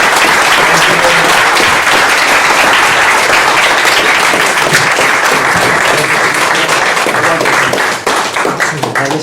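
Loud, sustained applause fills the room from an audience at a book launch, with many hands clapping densely and steadily throughout before thinning slightly near the end.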